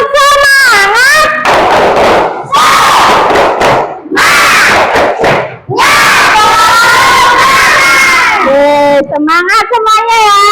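A group of children claps and shouts a rhythmic spirit-clap chant in a classroom, loud and close, with bursts of voices between clap patterns.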